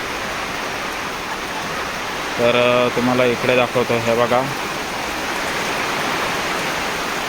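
Steady rain pours down at a poultry farm with chickens, a constant hiss under someone talking briefly midway.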